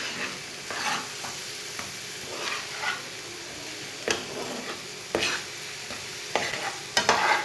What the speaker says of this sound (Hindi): अच्छी तरह मिक्स करके 1 मिनट तक भून लेंगे